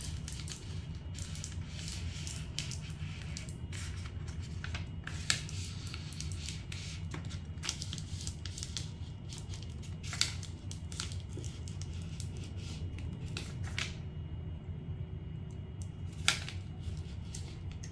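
Teckwrap craft vinyl for a water bottle tracker decal peeled slowly off its backing: faint, intermittent crackles and ticks over a low steady hum, close by, with no voices.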